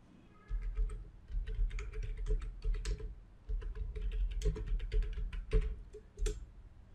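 Rapid tapping on a phone's on-screen keyboard while entering a search in the Google Play Store, a steady run of light clicks close to the mic with brief pauses between bursts, no talking.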